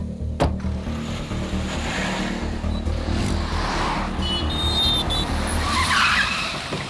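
A car skids hard to a stop on the road, a loud continuous broadband roar of tyre scrub and engine noise lasting several seconds, with a brief squeal near the end and no talk.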